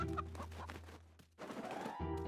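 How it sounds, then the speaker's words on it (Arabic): Chicken clucking in a chaotic physics video game, a few quick fowl clucks close and fairly loud over game background sound, with a short dip midway. "ارمي دجاج."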